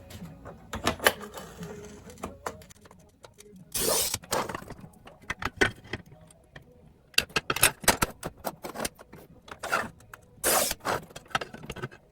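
Glass strips for a fused glass woven platter are scored with a cutter against a guide set to 35mm and snapped apart, giving sharp, crisp crackling bursts in several separate clusters with short gaps between them.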